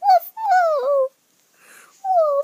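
A human voice imitates a dog barking, giving three drawn-out, whining woofs, loud and close, with short pauses between them.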